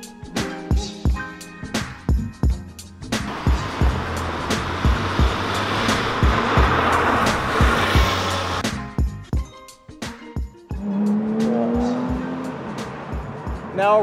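Porsche 911 GT3 RS driving, a loud engine roar that builds and holds for several seconds, with sharp clicks and thumps around it and a rising whine near the end.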